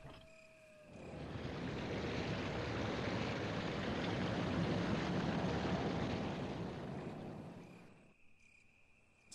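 A broad, continuous rushing roar of a waterfall in Resident Evil Remake swells in after a second, holds steady and loud for several seconds, then cuts away abruptly, leaving faint ambient tones.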